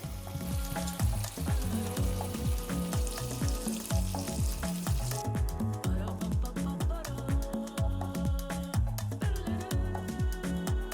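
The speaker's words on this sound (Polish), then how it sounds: "Na rozgrzaną patelnię wrzucam camemberta i będę go smażyć dotąd, aż się tak minimalnie rozpuści i dokładnie podgrzeje." Camembert fries in a dry hot pan, giving a steady close sizzle broken by rhythmic scraping and stirring strokes, continuous throughout with no voices.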